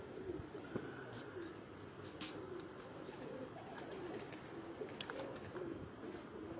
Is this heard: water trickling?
no